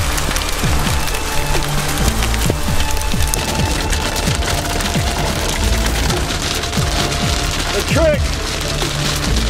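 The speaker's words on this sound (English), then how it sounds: "We've got hail and a lot of it." Heavy hail hammers a car on the Pikes Peak road in a relentless, crackling clatter, loud and close, with a brief shouted voice partway through.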